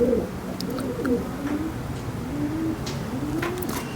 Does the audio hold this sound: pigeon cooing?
yes